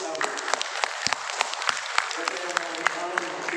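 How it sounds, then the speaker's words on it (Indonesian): Audience applause at an Indonesian Labour Party political gathering, a steady dense patter of many hands clapping with sharp individual claps standing out, fairly close and continuous throughout, with speech mixed in underneath. "Tepuk tangan."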